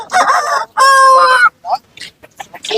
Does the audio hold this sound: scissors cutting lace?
no